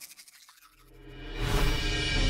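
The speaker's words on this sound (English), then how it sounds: "like an electric toothbrush, or the Duodent. Two brushes, twice the clean, half the time." A Duodent twin-head electric toothbrush starts up, its faint buzz swelling into a loud, steady high-pitched whir that carries on to the end, with no voices.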